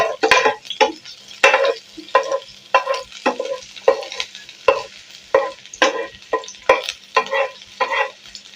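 Onion cooks in oil in a pan for egg noodles, a close rhythmic series of stirring scrapes and sizzling bursts repeating steadily over a quieter background.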